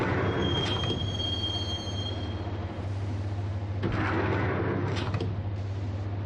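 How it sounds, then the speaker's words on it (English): Subway train in the video game Max Payne rolling toward Roscoe Street Station: a steady low rumble of cars on the rails with a thin wheel squeal above it, continuous and close throughout. "the train doors had already shut behind me, and I was in for the ride"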